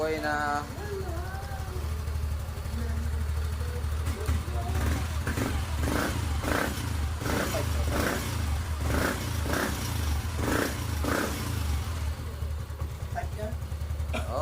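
A van's engine idles steadily after its throttle body has been cleaned in a repair shop, a continuous low rumble with some clatter and small revs, close and loud, while people talk over it.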